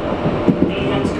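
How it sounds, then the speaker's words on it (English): A Berlin U-Bahn subway train setting off, giving a loud, dense low rumble with soft thumps of wheels on track, quite close and steady throughout the short moment. "This train doesn't make much of a noise when it sets off"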